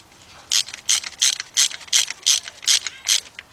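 A 3/8-inch drive ratchet tightens bolts during timing chain and oil pan work on a Chevy Cobalt, giving nine crisp, evenly spaced bursts of clicking, loud and close with short pauses between strokes.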